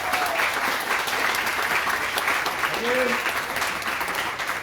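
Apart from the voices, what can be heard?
audience applause after a talk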